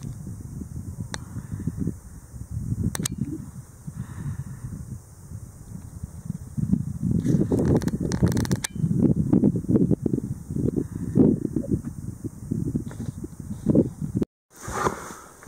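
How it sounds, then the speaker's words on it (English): Wind blowing steadily across frozen Lake Simcoe in winter during snowfall, a continuous low rushing roar that swells and gusts, loud and close with buffeting on the microphone and no talk. "the wind got up and it's snowing probably all the way around the lake"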